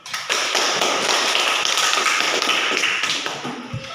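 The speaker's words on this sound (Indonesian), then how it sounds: "Mari kita beri aplaus dulu." A classroom group gives a round of applause, a dense, steady patter of clapping hands lasting a few seconds before tapering off.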